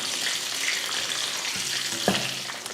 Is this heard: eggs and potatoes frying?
yes